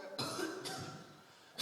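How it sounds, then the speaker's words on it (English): Close coughing, a few short harsh bursts with a gap between them, the last cut off at the end, fairly quiet in a calm indoor setting. "That cough of yours."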